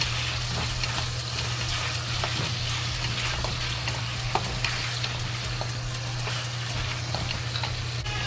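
A cinnamon stick, star anise and bay leaves fry in oil, giving a steady close crackling sizzle with fine pops throughout and a low background hum, no talking heard.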